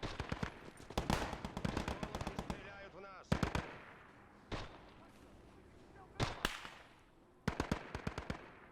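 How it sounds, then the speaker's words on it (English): PPS submachine gun firing in the Gates of Hell battle game, rapid bursts of close automatic fire with short pauses between them, plus single louder shots and echoing tails. Background game audio carries faint voices. "PPS sounding fantastic."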